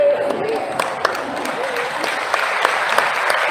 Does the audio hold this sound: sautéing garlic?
no